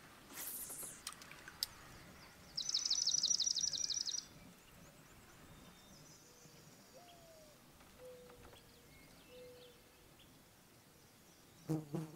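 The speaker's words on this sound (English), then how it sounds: "There are deer flies all over my microphone, if you can hear them." A high, steady buzzing of deer flies around the microphone hums for a couple of seconds amid quiet outdoor creek ambience, with faint bird calls and a few soft knocks nearby.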